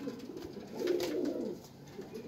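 A Teddy pigeon gives a soft, low, rolling coo close by, one drawn-out phrase swelling in the middle and then fading, with no voices.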